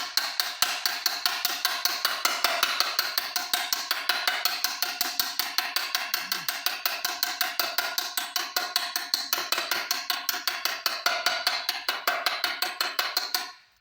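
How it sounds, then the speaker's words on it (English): A Harbor Freight body hammer taps rapidly on a metal valve cover to straighten it, producing a long, unbroken run of quick, even, light metallic ticks close by, steady throughout and stopping at the end. "Doing quick little taps like that is kind of like a plenishing hammer."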